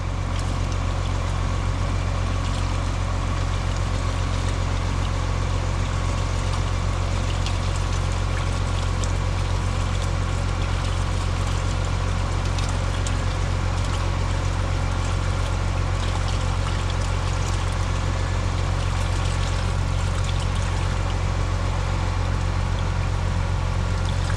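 A pump forces water through a 3-inch hose in a loud, continuous rush, its engine droning steadily underneath the whole time with no voices.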